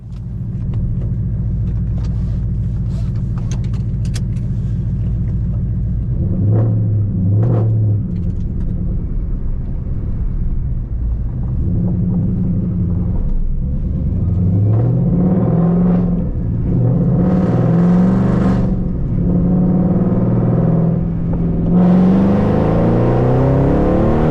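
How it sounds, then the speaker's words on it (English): A tuned car engine at wide-open throttle, pulling from 2500 to 5000 RPM during a datalog run: loud, continuous drone that climbs steadily in pitch with rising revs, with a few brief shifts in tone along the way. "we just finished up that WOT pull from 2500 to 5000 RPM"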